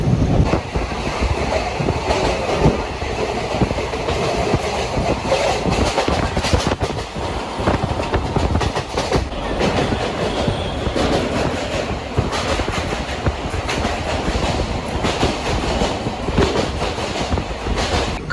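The Kolkata–Haldibari Superfast Express rumbles steadily along the tracks toward Bardhaman with rhythmic clickety-clack of wheels, loud and close, a continuous roar with no talking.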